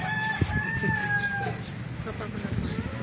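A rooster crows once, a drawn-out call near the start, followed by clucking and other farmyard noise from a backyard flock of chickens.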